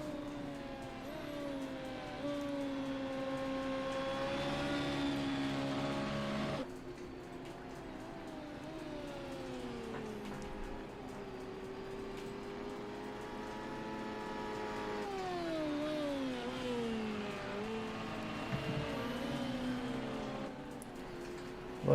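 Formula X race cars in a racing video game at the Silverstone Grand Prix drone on continuously, engine pitches rising and falling through gear shifts as several cars pass, steady and moderately loud.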